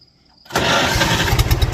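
A McCormick-Deering 10-20 tractor engine that needs a carburetor rebuild catches after a quiet moment and settles into a loud, steady running chug close by, its low pulsing beat continuing to the end.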